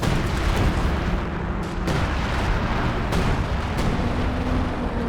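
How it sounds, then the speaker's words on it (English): A heavy artillery barrage lands in Company of Heroes 2 as a dense, continuous rumble. Sharp blasts break through it repeatedly, loud and close throughout. "Major artillery into the centre, it looks like."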